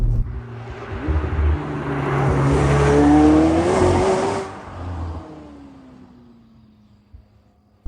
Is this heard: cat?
no